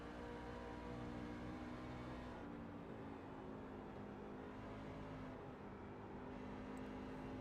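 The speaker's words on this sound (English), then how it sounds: "We hear him on the throttle, off the throttle, and back on the throttle" A racing truck engine in the iRacing sim at Dover International Speedway, heard at a steady drone with its pitch briefly dropping twice as the throttle lifts and comes back on. Faint and continuous, with no talk.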